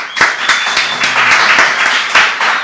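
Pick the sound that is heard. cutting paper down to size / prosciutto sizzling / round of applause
round of applause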